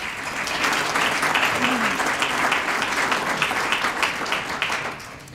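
Audience at a Bellevue Chamber of Commerce business awards luncheon applauds the directors and staff who organized it, a steady, full round of clapping lasting several seconds before tapering slightly at the end.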